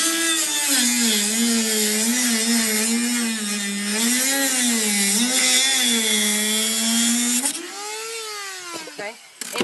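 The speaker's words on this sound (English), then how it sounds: "cut a divot out of it to make it easier to go on the pipe." A power tool cuts a divot out of a plastic clip meant to fit over PVC pipe for a hoophouse greenhouse, giving a loud, continuous wavering whine that rises and dips as the cut progresses, then cuts off near the end.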